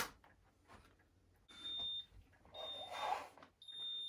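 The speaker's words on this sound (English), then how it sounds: "So when you plug it in, you get this beeping sound." A Hoover steam iron beeps as it is plugged in, giving short, clear electronic tones of moderate loudness in a quiet room, each tone ringing steadily and then stopping.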